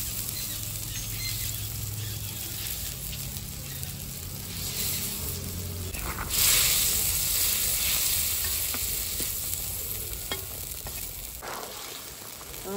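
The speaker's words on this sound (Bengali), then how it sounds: "মাছগুলো দিয়ে দিচ্ছি।" Fish hitting a spiced gravy in a hot pan gives a steady, fairly loud sizzle and frying crackle, broken by occasional stirring scrapes, with no talking.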